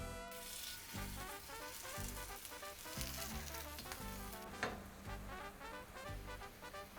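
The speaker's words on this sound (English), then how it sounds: "Putting them into the oil." Pupusas fry in oil in a stainless steel pan, a low steady sizzle running beneath louder pulsing music throughout.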